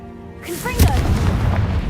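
A Confringo blast spell goes off in the Hogwarts Legacy video game: a brief spoken voice is followed by a loud, booming burst with a rumbling tail.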